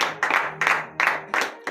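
Several bursts of crowd clapping at a church morning prayer service, each swelling and fading in quick succession, loud and close.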